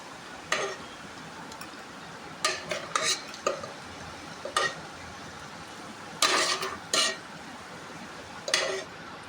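Boiled potatoes and carrots are mashed into masala in a pan for masala dosa, producing scattered scraping and tapping strokes of a spoon against metal over a faint sizzle.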